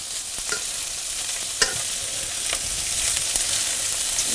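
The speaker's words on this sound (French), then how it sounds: "Quand les bords du poisson commencent à être cuits comme ça, en principe, on peut les tourner." Perch and féra fish fillets fry in a pan with a steady high sizzle, broken by a few soft taps and clinks of a utensil. Nobody speaks.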